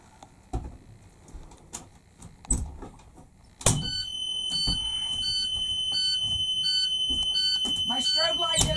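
After some clunks and thumps, a bus roof hatch alarm starts, a shrill electronic alarm that keeps sounding with a steady repeating beep pattern, loud and close, with talking alongside.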